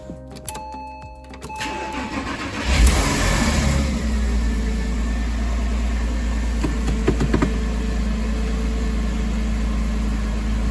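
A 2001 Porsche Boxster 986, just rebuilt, cranks and fires up, then settles into a loud, steady engine rumble with a few revs. The sound is close and continuous with no talking.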